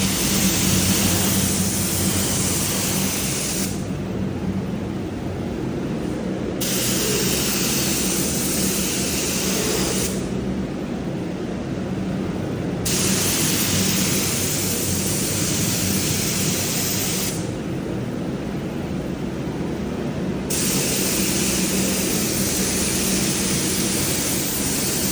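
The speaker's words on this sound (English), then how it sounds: "Okay, so I've sprayed down the base colour" Spray gun laying base colour onto a Holden HX Kingswood body under restoration: a loud, steady airy hiss runs throughout, with its brightest top edge briefly dropping away three times between passes.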